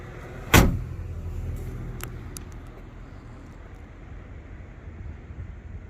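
The door of a 1992 Hyundai Galloper slams shut with a single sharp, heavy thud near the start, followed by a few faint clicks and a low, steady background rumble.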